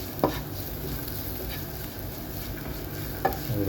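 Masala with coriander powder fries in a pan for chicken curry, a close, continuous sizzle with a couple of sharp spoon scrapes and clicks against the pan as it is stirred, no voices.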